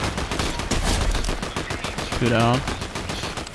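Rapid video game gunfire from a shootout rattles in dense bursts throughout, close and loud, with a player's voice talking briefly over the shots.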